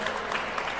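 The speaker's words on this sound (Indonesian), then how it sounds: "tepuk tangan untuk Ibu Alisa Wahid" A seated audience claps for Alissa Wahid at a memorial discussion about Pope Francis, a short, dense patter of applause at even loudness with no voices over it.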